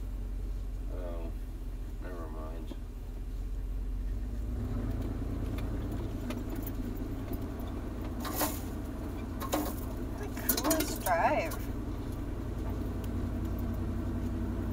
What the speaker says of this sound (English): Certainly don't want to drive your brand new vehicle down this road.